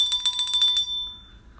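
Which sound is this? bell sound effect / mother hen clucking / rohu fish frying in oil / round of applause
bell sound effect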